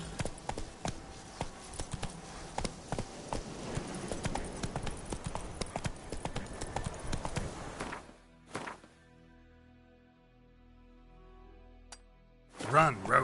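Hooves of a galloping horse in a PS4 video game clatter in rapid, loud clip-clop rhythm for about eight seconds, then stop, leaving quiet with a few faint thuds and a brief burst of sound at the end.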